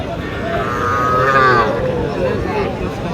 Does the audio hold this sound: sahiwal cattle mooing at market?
yes